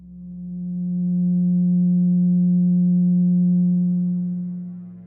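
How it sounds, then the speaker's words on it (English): A steady, pure electronic tone around 180 Hz, tied to the 180 degrees of a triangle, holds evenly for several seconds, fading in and out smoothly with nothing else present. "let's listen to what the 180 total degrees contained in a triangle sound like"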